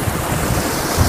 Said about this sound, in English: This is the water come from the mountain.